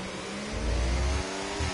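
Race car engines in Project Gotham Racing at the Monza circuit give a steady mid-pitched drone that swells into a louder rev for a moment and then settles back.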